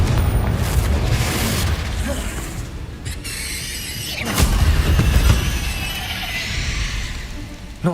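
A Confringo spell explosion in the Hogwarts Legacy video game, a loud booming blast with crackling debris and rumbling that swells midway, with no other noise around it.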